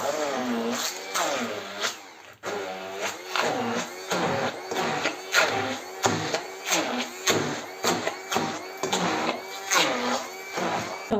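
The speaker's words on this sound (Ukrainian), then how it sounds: "збиваємо все блендером" An electric blender whirs through a soft cheese casserole batter with sour cream, its motor rising and dipping in pulsing surges as the blades churn the mixture, steady and close.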